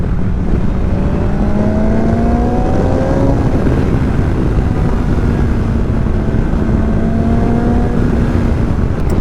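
A 2021 BMW S1000XR motorcycle with a newly replaced air filter makes a throttle roll-on. Engine tones climb in pitch under constant, loud wind rush, as heard from the rider's position.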